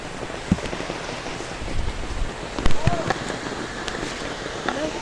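Rain patters steadily on a surface, with scattered louder drops and occasional knocks over a constant hiss.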